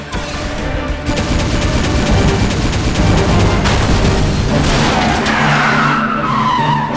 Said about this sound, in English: Blue Will, Blue Pulse Gun, fire!